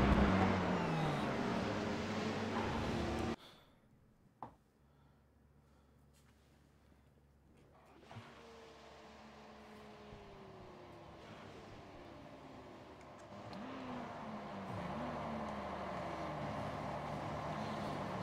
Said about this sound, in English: It sounds like a mix of the V8 and a diesel fueled right now.